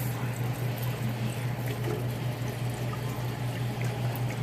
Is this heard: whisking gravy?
yes